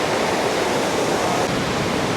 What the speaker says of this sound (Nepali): यो तल बगिरहेको नदी जुन तपाईँले देख्नुभयो, यो नदी चाहिँ बागमती नदी हो